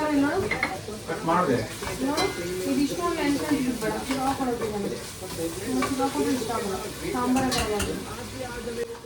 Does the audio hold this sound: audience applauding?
no